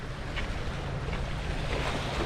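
Slightly choppy sea slaps around a small boat out on the water during cuttlefish fishing, a constant wash of waves mixed with wind buffeting the microphone.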